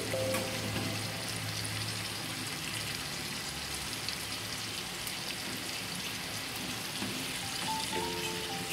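Halved tomatoes, half a kilo, go into a mutton karahi, Shinwari style, and set off a steady, dense sizzle of frying that holds at an even level throughout.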